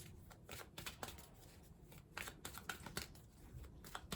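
Cards being shuffled in quick riffling bursts, soft and close, repeating several times with short pauses between.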